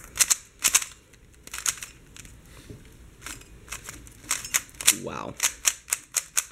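A Moyu Aulong speed cube is turned quickly, making rapid bursts of sharp plastic clicks and clacks close by, with one short spoken exclamation partway through.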